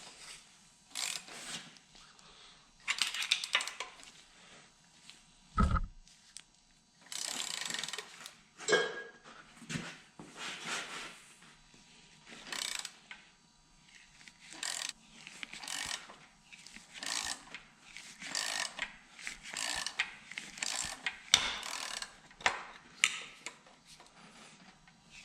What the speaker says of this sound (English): got my socket on there. So I can go ahead and start turning this to pull the gear out.